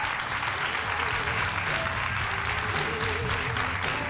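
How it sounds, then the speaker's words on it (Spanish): A television studio audience applauds a guest arriving on a talk show set, a steady dense wash of clapping that holds evenly for several seconds with a faint crowd murmur underneath. "Un fuerte aplauso para él."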